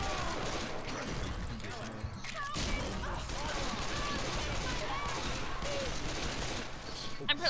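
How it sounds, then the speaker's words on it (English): Gunfire in the co-op zombie shooter Left 4 Dead 2, rapid repeated shots and fusillades running steadily under busy game noise, with people talking over the action. "I will shoot you from over here!"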